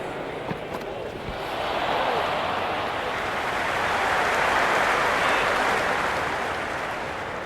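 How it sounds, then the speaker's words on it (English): Cricket crowd at an India versus England T20 match cheering and applauding in the stands, a broad wash of noise that swells after a couple of seconds and stays loud. "There's a buzz, a real buzz coming from the stands."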